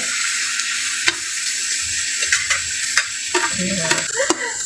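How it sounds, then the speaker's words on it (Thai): Egg and papaya sizzle steadily over high heat in a small pan while a utensil scrapes and tosses them in repeated strokes, close and fairly loud. "คลุกเลยเพราะเราเปิดไฟแรงแล้ว คลุกเขาเลย"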